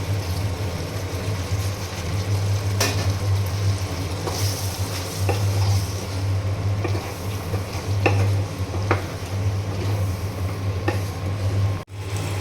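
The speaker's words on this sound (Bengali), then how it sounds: "ছোলার ডাল এখন গোশের সঙ্গে খুব ভালো করে কষিয়ে নেব।" Soaked chana dal and meat stir-fried in a pan, a steady loud sizzle with scraping spoon strokes at irregular intervals over a constant low hum throughout.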